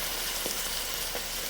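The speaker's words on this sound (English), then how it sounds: "Few sounds are as satisfying as sizzling, perfectly seasoned meat." Seasoned chicken pieces dropped into a hot pot for Trinidadian pelau give a steady, close frying sizzle, with two faint soft bumps as pieces land, and no talking.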